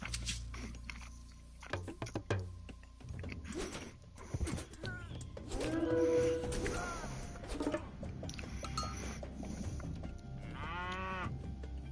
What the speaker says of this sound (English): Oh my god, there's so many cows.